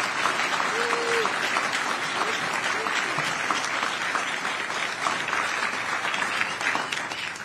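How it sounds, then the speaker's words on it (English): Sustained applause from an audience at an Army medical command change-of-command ceremony, a steady, even roar of many hands lasting throughout, with a brief voice faintly audible early on. "How about a round of applause for Major Gainsley?"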